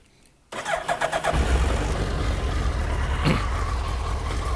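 A red 2004 Suzuki Hayabusa Limited Edition motorcycle starts from cold: a brief whirring crank, then the engine catches and settles into a loud, steady idle close by.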